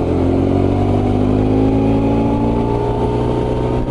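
BMW R1100RT touring motorcycle with its 1100 engine, a loud, steady droning hum while riding, with continuous wind rush and a slowly shifting engine pitch throughout.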